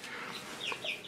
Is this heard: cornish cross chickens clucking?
yes